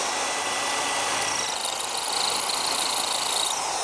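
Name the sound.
power drill drilling holes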